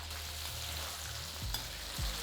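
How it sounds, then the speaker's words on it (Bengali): A second batch of pointed gourd (potol) fries in generous oil in a festive, wedding-feast style, giving a steady, dense sizzle broken by a couple of soft stirring scrapes. "এবার এই সেকেন্ড ব্যাচটাকে আমি একইভাবে ভেজে নিচ্ছি।"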